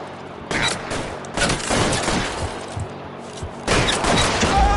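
Gunfire in the L.A. Noire video game, loud bursts of shots and crackling fire in a few dense clusters, close and harsh, without talk.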